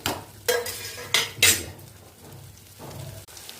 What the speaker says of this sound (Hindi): घी के गर्म होते ही ये सारी जड़ी बूटियाँ, अदरक, काली मिर्च,